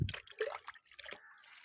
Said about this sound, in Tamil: இப்போ நல்லா அதில் நல்லா ஒரு கப்பு தண்ணி விட்டுக்குருவோம்.